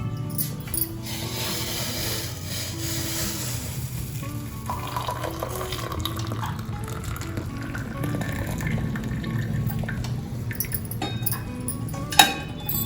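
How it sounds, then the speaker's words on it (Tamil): Boiled sundakkai (turkey berry) water being strained, a steady watery pour and trickle with faint clinks of a vessel, alone with no talk, ending with a sharp knock near the close. "இப்போ நம்ம இந்த தண்ணியை வடிகட்டிக்கலாம்."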